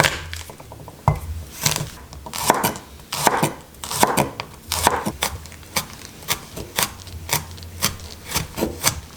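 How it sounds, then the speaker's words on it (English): Garlic is finely chopped with a knife on a cutting board in a home kitchen. Sharp, rhythmic knife strikes come in quick irregular bursts, close and clear, with no talking. "The aromatics all chopped up finely. I start with the garlic."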